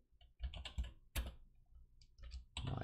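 Someone types on a computer keyboard while exporting a photogrammetry scan, giving short bursts of close, crisp key clicks in irregular clusters with brief pauses between them.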